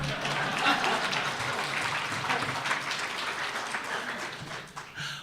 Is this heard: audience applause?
yes